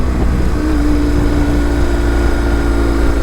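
23-year-old BMW R1150 GS motorcycle riding on a road, a steady loud engine drone with wind and road rush and a sustained engine tone, heard from the rider's position with no talking.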